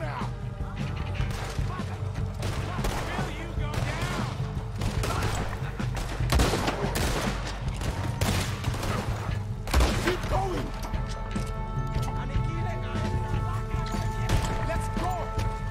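Volcano pistol shots in Red Dead Redemption 2, a series of sharp reports and impacts mixed into continuous game music and ambience, with a voice talking throughout.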